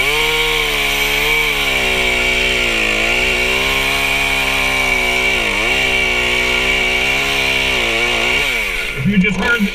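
An Efco MTT3600 chainsaw engine roars loudly and continuously, its pitch rising and dipping as it revs with a slight lag, close by, then cutting out near the end.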